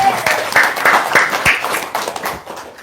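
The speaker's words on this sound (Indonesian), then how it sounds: "Tepuk tangan dong." An audience claps in short, irregular bursts that fade toward the end, with a voice partly mixed in among the claps.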